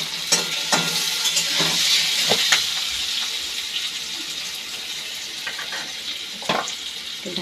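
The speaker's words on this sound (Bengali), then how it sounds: "আলুটা ভেজে নিচ্ছি আগে" Potatoes frying in a pan, a steady sizzling hiss with occasional scraping and clinking stirs of a spatula, close by.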